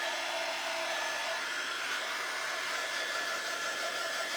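A blow dryer runs steadily throughout, drying an upcycled index card box with a constant, loud whooshing roar and no talk.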